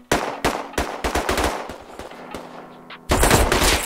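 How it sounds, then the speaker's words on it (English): Gunfire in the survival game Rust: rapid loud shots crack out in an irregular burst, then sparse single reports, before a dense roaring barrage of fire at the end. "Oh, I'm getting shot."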